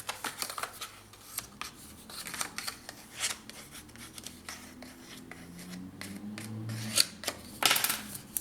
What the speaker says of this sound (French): Tout ce qu'on a à faire maintenant, c'est de couper ces lignes.